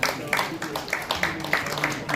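An audience claps at a congratulatory award ceremony, a fairly faint patter of applause with a few sharper individual claps standing out at an even pace, set back in the room.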